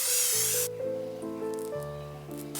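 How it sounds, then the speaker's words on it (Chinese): Oil sprayed into a bowl so chia rye bread dough won't stick: one short, bright hissing spray lasting well under a second, after which soft melodic background music carries on alone. "在碗里喷点油防粘"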